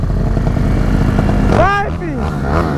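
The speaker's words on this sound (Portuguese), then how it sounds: "tá chegando mais moto ainda" Motorcycles pull in at a dirt track, engines revving and a rising whine sweeping up and down as a bike passes close, loud beneath continuous chatter from people nearby.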